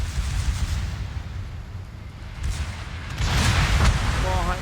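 Secondary guns of the battleship Bismarck in World of Warships, low booming artillery rumble with repeated distant-sounding thuds growing louder toward the end, under a voice talking.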